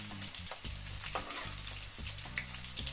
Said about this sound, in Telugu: వీటిని ఇప్పుడు జస్ట్ నూనెలో ఫ్రై చేయడమే.